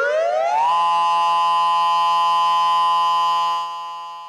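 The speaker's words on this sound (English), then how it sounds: "new attack warning siren tones are set to be tested monthly" A loud, sustained civil defense nuclear attack warning siren rises quickly at the start, then holds one steady wailing pitch for several seconds before fading slightly at the end.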